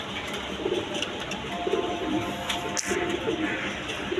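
Tulip pigeons in a loft give several short, low coos in a broken rhythm, close and moderately loud over a steady background hiss.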